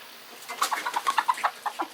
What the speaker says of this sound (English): These are the little buff Orpingtons that we had raised from little chicks.